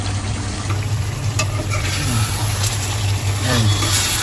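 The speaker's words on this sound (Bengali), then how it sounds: "পানি দেওয়ার আগে আমি মাংসটাকে পর্যাপ্ত পরিমাণ ভেজে নিব, যাতে নরম হয়ে যায় একেবারে" Beef frying in a pan for Kabuli pulao before water goes in, a continuous close sizzle with stirring scrapes over a low steady hum; no speech.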